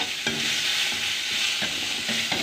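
Onion and garlic fry in a small amount of oil in a pan, a steady close sizzle broken by a few stirring scrapes.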